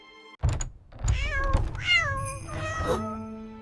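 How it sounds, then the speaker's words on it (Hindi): A cat meows several times in a row, drawn-out and wavering cries, close and fairly loud, with a soft thump near the start. "घर की शरारती बिल्ली"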